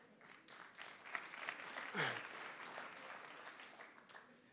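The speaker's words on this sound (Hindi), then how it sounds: "ताली झूठ के लिए बजा रहे हैं या मेरे लिए?" Audience at a Hindi motivational speech in Mumbai claps, a faint, steady patter of applause with a brief vocal sound partway through.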